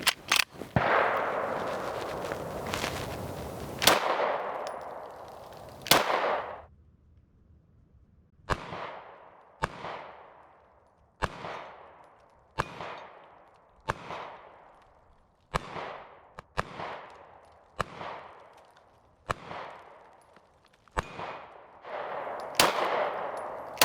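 A Taurus G3 full-size pistol fires about thirteen sharp, loud shots, first in a fast burst, then after a pause as single shots at a steady pace of roughly one per second, each with a short ringing decay; nobody speaks.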